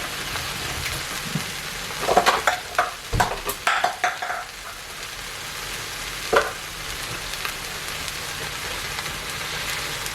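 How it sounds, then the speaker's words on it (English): Eggs sizzle and fry in a pan over high heat during fried-rice cooking, with a burst of sharp scraping stir strokes in the middle and a steady rain-like hiss throughout; no talking. "Keeping the heat high. Cook the eggs in the middle."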